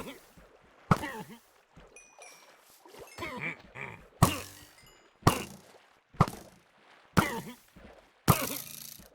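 Repeated sharp game attack hits on trapped mobs in Minecraft Bedrock Edition, about seven loud thwacks spaced roughly a second apart, each with brief rumbling decay, between quieter stretches with faint ambient noise.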